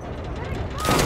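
A Call of Duty Modern Warfare (2019) gunshot ends in a sharp, loud burst over a steady bed of game noise and chatter.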